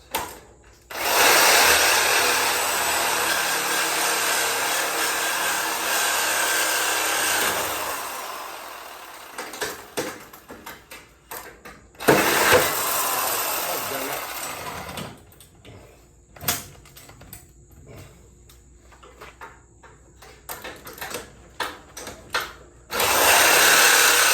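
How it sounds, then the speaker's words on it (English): A reciprocating saw (Sawzall) cuts through a sawmill engine mount on a Woodland Mills HM122 sawmill, a loud, steady buzzing burst followed by a pause of scattered clanks, then a second burst and a third starting at the end. "I'm about to take the sawzall and try to get in there and do the last cuts to get this cut loose"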